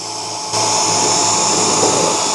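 A power drill boring at an angle into wood while building a small pet house, a loud, steady high-pitched whine that steps up in intensity after a brief start and then holds constant.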